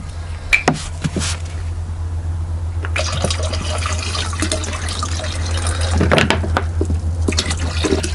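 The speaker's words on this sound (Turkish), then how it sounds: "3 litre bir suya 100 gram daha kireç ekledim. Ve bunu yine döküyoruz." Limewater made from about 100 grams of lime dissolved in 3 litres of water is poured into a liquid while it is stirred to make Bordeaux mixture; splashing and running water fill the scene, with sharp clunks and sloshes.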